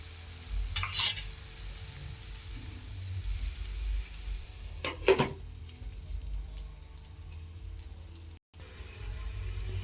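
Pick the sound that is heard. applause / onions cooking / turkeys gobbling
onions cooking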